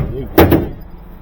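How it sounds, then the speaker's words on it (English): A drawer slides out and drops under its own weight in a car wash equipment room, landing with one short, loud thud and a small second knock close by. "that's a downside to these drawers like this. Falls out under gravity."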